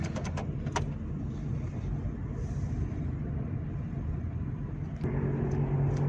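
A car on a motorway during a test drive after suspension repair: steady broadband road and engine rumble at cruising speed, continuous and fairly loud, with a couple of brief clicks and no talk.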